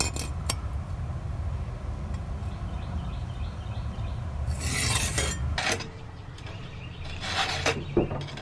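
Round file sharpening the cutters of a chainsaw chain, close-up rasping strokes with small metallic clinks, quiet at first and then a few brighter, harsher scrapes toward the end.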